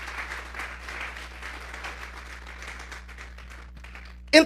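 Applause from a Spanish-speaking church congregation, a soft, moderately distant patter of many hands over a low steady hum, fading out before a brief loud knock or clatter at the very end.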